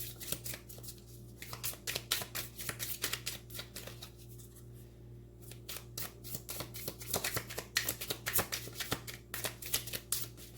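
A deck of tarot cards is shuffled in quick repeated riffles and flutters, a steady run of crisp papery bursts close to the listener with a couple of brief pauses.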